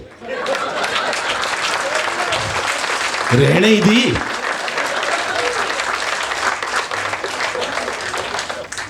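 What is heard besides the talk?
few people clapping at poetry event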